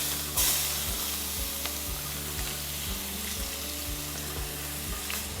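Onions browning in butter in a hot pan give off a steady, dense sizzle and crackle, close and continuous throughout, with a faint low hum underneath and no talking.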